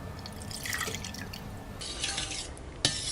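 Water trickles and splashes into a bowl of ragi koozh batter, a steady faint pouring with small drips and a brief louder splash near the end, no talking.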